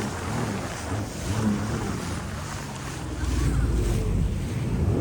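Riding a jet ski over waves: constant engine drone and splashing water under strong wind noise, with a deeper rumble swelling in the last couple of seconds.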